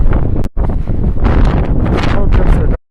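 Strong wind roars steadily through a snow storm, buffeting the microphone almost continuously with two brief drops, and a voice talks over the gusts.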